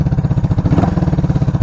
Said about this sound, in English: But it's running really good. Idling perfect.